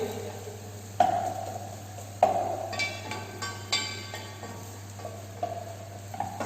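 Hariyali spinach gravy being sautéed in a pan, a quiet simmering sizzle with several distinct metallic scrapes and clinks of a ladle at irregular intervals.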